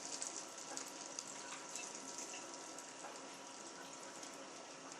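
Water pours steadily into a food processor holding chopped tomatoes, a continuous faint splashing trickle without pauses or talking.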